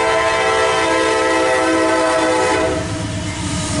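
A loaded CSX autorack freight train rolls close by with a loud, continuous rumble and rail clatter, its horn sounding as a steady sustained tone over the passing cars.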